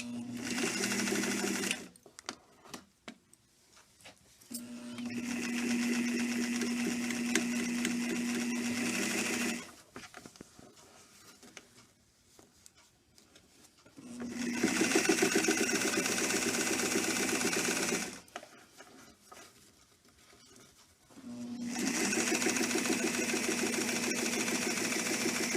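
A sewing machine stitches dress fabric enclosed in bias tape, running in four steady mechanical whirring bursts separated by quiet pauses.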